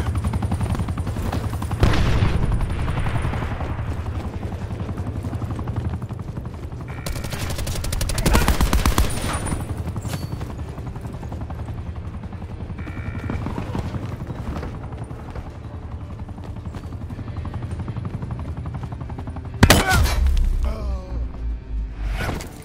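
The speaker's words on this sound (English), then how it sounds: "Hostile attack chopper inbound." An attack chopper in Call of Duty Black Ops 4 drones with a heavy, sustained roar under rattling bursts of machine-gun fire and explosions, with loud surges as it passes close overhead.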